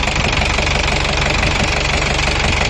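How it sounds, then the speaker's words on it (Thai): The 115 hp engine of a six-wheel truck runs loud and steady at close range, a continuous rumbling drone with a faint rhythmic knock throughout. "เครื่องนี่ดีเลยนะครับ เครื่องดี เครื่องดีมากเลยนะครับ เครื่องนิ่ม ๆ"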